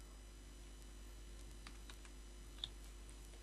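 A computer keyboard is typed on to enter a sheet name in Excel, giving faint, sparse key clicks over a low steady hum, with one slightly sharper tap near the end.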